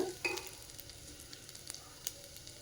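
Onions softening in a pan for a pearl barley pulao give a faint, low sizzle, with a few light scrapes and taps of stirring.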